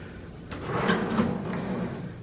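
In a hotel room, a dresser drawer slides open and shut with a soft wooden rumble and a couple of light knocks, close by and fairly quiet.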